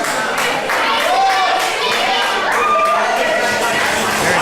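A crowd at a Pinfall Wrestling Association show claps and cheers steadily, with shouts and whoops rising over the dense applause and a nearby voice speaking through it.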